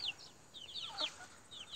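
Free-range chickens on a village chicken farm give short repeated clucks and calls, moderately close and fairly quiet against a still outdoor background with no talking.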